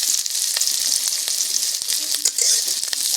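Black cumin, chopped onion and green chillies fry in hot oil with a bright, crackling sizzle, close and continuous, broken by a few sharp pops and spoon taps.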